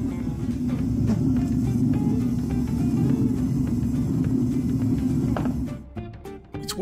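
Gas torch roaring steadily as it heats a bronze-filled crucible inside a small casting furnace, a loud, continuous low rumble that holds for about six seconds before dropping off with some clattering near the end.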